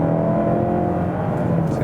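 A 2017 Mazda6 accelerates from 60 to 80, its engine giving a steady, loud droning whir with road noise throughout, heard from inside the car.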